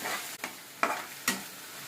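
Salt, turmeric and chili powder being stirred into the base for a ridge gourd curry, three quick scraping stirs over a soft low sizzle, close and fairly quiet, with no talking.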